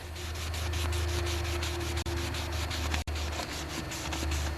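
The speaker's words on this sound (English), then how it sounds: "I'm going to clean the shaft here with a rag with a bit of gas on it." A gas-soaked rag rubbing hard along a snowblower shaft during friction disc repair, a steady close scrubbing swish with fast back-and-forth strokes and two brief pauses, no talking.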